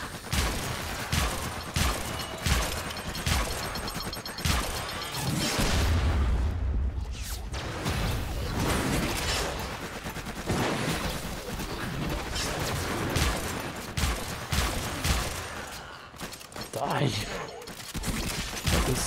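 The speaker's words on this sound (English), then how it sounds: "There's so much grenade shit going on here" Grenade blasts and rapid gunfire from a busy Warframe fight, a dense, nearly continuous barrage of booms and shots with a few heavier impacts, loud throughout with occasional talk over it.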